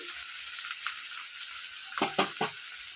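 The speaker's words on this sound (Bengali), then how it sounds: "পেঁয়াজটা দিয়ে দিয়েছি, একটুখানি নেড়ে চেড়ে নেবো।" Chopped onion fries in a pan with a soft, steady sizzle, then near the end a few quick scraping stirs of a spoon sound close by, with no talking.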